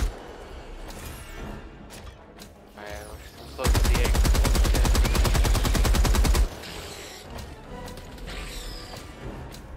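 Rapid automatic gunfire in Helldivers 2, a loud, sustained burst of about three seconds with evenly spaced shots, set among quieter scattered combat noise before and after.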